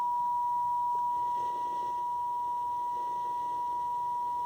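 A steady, unbroken test tone from a Soundtech 1000 signal generator plays through a circa-1980 Zenith R430 AM/FM table radio, holding constant under a faint background hiss.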